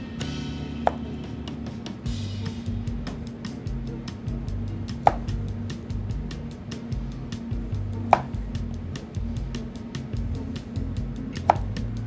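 A knife cuts food pieces in half on a cutting board in a home kitchen, giving a steady run of quick, light chopping taps with a few sharper knocks, close by over a low background hum.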